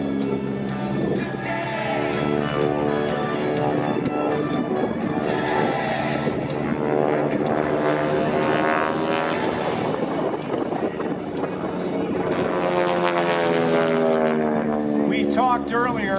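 Aerobatic propeller airplanes of the Titan Aerobatic Team fly in formation at the Dayton airshow, their engines droning steadily and loudly throughout under a commentator's continuous talk over the public address.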